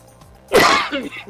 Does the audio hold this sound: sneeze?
yes